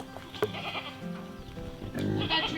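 Farm pigs call out close by, a few short, loud squealing bleats with harmonic tones, rising again near the end, no talking.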